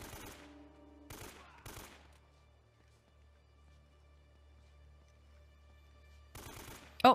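Gunfire in the video game Uncharted: Drake's Fortune: sharp bursts of rapid shots, three close together at the start and two more near the end, separated by a quiet stretch of low droning hum.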